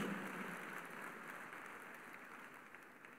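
Faint applause from a church congregation, a soft, continuous patter of clapping that slowly thins out.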